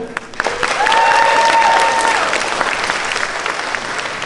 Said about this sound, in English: can we please get a massive, massive round of applause for everyone behind the scenes